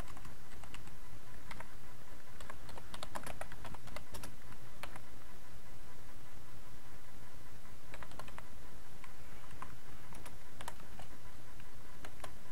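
Steady, rapid keystrokes on a computer keyboard while PHP code is typed, a continuous stream of close, crisp clicks with no speech.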